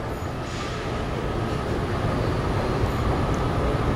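An Elizabeth line Class 345 train arrives at Custom House station, a loud steady rumble of wheels and motors on the track with a faint high whine, no speech.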